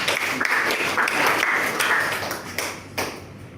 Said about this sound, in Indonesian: terima kasih tepuk tangan kepada Mbak Ninda ya